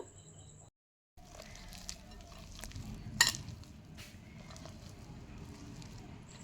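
Hands knead sticky wheat flour dough with liquid milk for gulab jamun, making soft, quiet squelching and slapping sounds after a short silent gap. One louder squish comes midway.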